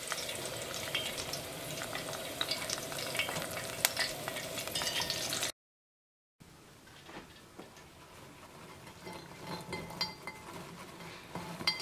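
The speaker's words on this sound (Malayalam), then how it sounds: "ഇതിലേക്ക് കുറച്ച് കറിവേപ്പില ഉണക്കമുളകും ഒന്ന് വറുത്തിട്ട് ചേർക്കാം" Curry leaves and dried chillies sizzle in hot oil for masala peanuts, with steady frying hiss and clinking spoon-against-pan stirring up close. The sound cuts to a brief silence partway, then the quieter sizzling and scraping resume.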